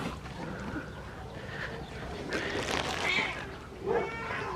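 Stray cats being fed chicken necks meow in short, wavering calls, several overlapping with one louder cry near the end, against a busy outdoor background with no clear speech.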